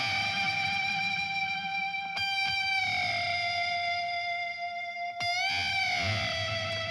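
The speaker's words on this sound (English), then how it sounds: "Moving on, we added these slide guitars." Dirty, distorted slide guitars run through an amp simulator in a modern country production, sustained gliding notes with a thick saturated tone, loud and continuous with a couple of sharp bursts.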